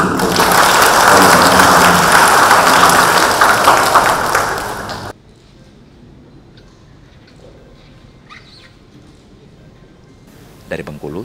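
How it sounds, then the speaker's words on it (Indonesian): Dense, loud audience applause at a formal police ceremony for the handover of Bengkulu policewomen's foster mothers, lasting about five seconds and then cutting off abruptly into quiet room tone with faint sounds. "Tepuk tangan dulu."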